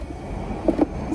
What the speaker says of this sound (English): there's a loud ass car right there